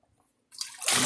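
Cold water from a fridge pouring into a hydration bladder, starting abruptly after near silence and rising quickly into a loud, close rushing gush.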